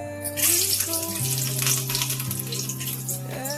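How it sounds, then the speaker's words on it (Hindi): Garlic hitting hot oil with cumin already in a frying pan, a steady loud sizzle and crackle running throughout with some clattering, and a faint voice near the end. "उसके बाद इसमें मैं ऐड कर रही हूँ लहसुन।"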